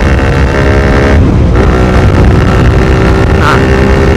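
A loud Honda CBR150R motorcycle engine with a Daytona GP taper racing exhaust and DB killer revs and drones continuously nearby, rough and throaty, with no speech over it.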